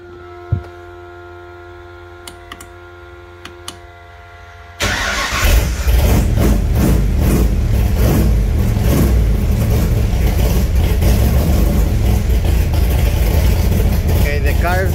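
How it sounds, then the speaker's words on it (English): An Alumacobra with gas side pipes sits quiet apart from a few faint clicks, then its engine fires up abruptly and settles into a loud, steady rumbling run close by. "Okay, the car is running"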